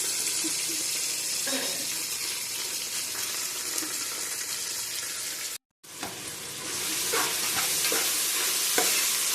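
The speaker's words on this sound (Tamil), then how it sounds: "வெங்காயத்தை போட்டுட்டு நல்லா கோல்டன் ப்ரௌன் வர வரைக்கும் நல்லா வதக்கணும்." Onions for chicken biryani fry and sizzle in a pan while being stirred, a steady bright hiss with scraping strokes that briefly cuts out, then returns louder and fuller.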